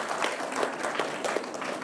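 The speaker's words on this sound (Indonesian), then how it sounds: "Kita beri tepuk tangan untuk Transmedia" An audience applauds Transmedia at the official opening ceremony of the Festival LIKE 2 in 2024, with dense, steady clapping from a crowd and individual claps popping out rhythmically throughout.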